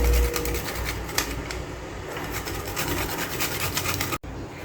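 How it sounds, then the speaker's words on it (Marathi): Nutmeg is grated for a moong dal puran poli filling, giving a close, rapid rasping scrape of repeated strokes that ends abruptly near the finish. "आणि जायफळ असं किसून घालायचं"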